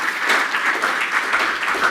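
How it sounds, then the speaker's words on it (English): Audience applause for Dr. Shunde Zhang after a conference talk, a dense, steady wash of many hands clapping together, fairly loud and continuous throughout with no voices over it. "Round of applause for Dr."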